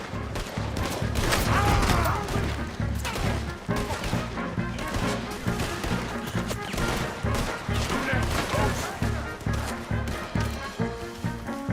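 Gunfire rattles through a Red Dead Redemption 2 shootout: dense, rapid volleys of shots, with horse hooves and other crashes in the mix, and voices calling out beneath the fusillade.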